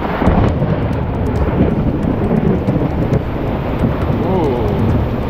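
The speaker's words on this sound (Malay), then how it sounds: "Ribut kan, ribut." A thunderstorm with heavy rain pours down steadily in a dense, loud wash, with low rumbling thunder and gusts of wind battering the microphone throughout.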